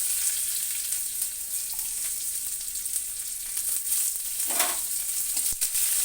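Chopped onion sizzles in hot oil with black cumin seeds, a steady close frying hiss throughout with a brief stir or clink near the end.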